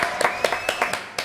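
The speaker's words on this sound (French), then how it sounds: "Allez, applaudissements pour Amanda." Audience clapping on a French television show, a short burst of sharp, fairly close claps landing in an uneven rhythm for just over a second.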